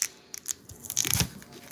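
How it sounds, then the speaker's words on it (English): A knife cuts through an onion in a home kitchen with a few short, crisp crunching and slicing strokes, close and fairly quiet, with no talking. "Now I gotta cut the onion"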